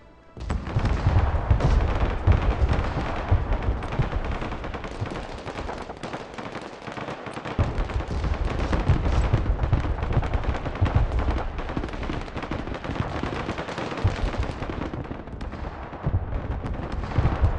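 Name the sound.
mortar artillery fire in the video game Broken Arrow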